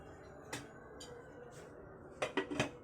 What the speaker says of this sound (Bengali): এখন এটাকে দিয়ে দিব ঢাকনা